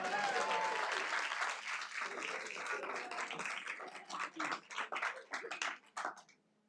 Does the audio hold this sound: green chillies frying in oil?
no